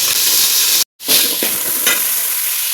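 Minced mutton drops into hot oil with curry leaves while cooking a mutton kurma, giving a loud, dense sizzle. The sizzle cuts out for a split second, then surges back and crackles on steadily.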